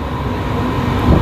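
Maithili Express pulling out of Kolkata on its run to Darbhanga, a steady close rumble of railcars rolling heavily, swelling slightly louder toward the end with no talk over it.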